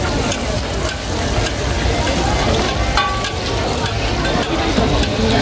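Oyster omelette frying on a hot griddle at a street food stall in Hat Yai, with steady sizzling and stirring scrapes throughout and voices talking nearby.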